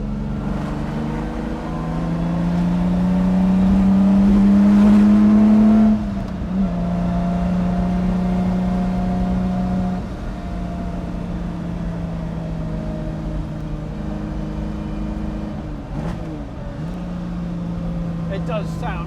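Lamborghini Miura supercar engine heard from inside while driving, a loud steady drone that swells and rises in pitch, eases off, then settles into a lower hum, with occasional voices over it.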